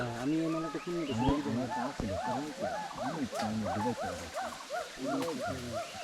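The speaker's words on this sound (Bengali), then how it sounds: "উল্লুকের আওয়াজ পাচ্ছি আমরা" Loud, overlapping whooping calls of hoolock gibbons, rising and falling in repeated hoots, several animals calling together nearby.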